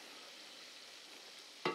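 Quiet, even hiss of Korean-style popcorn shrimp deep frying in 180-degree oil, steady and soft, ending with a brief sharp clatter.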